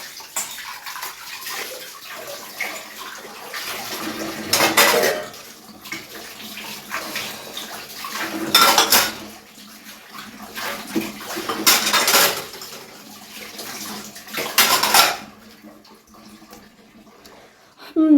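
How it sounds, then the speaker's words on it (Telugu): Dishes and pots are scrubbed and rinsed under a running kitchen tap, with bursts of gushing water alternating with softer clinks and scraping of utensils, close by. "గిన్నెలన్నీ కడిగేసానండి"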